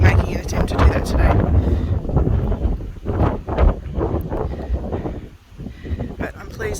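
Strong wind buffets the microphone on an exposed rock ledge in the Blue Mountains near Warrimoo, a loud continuous roar with gusty swells throughout.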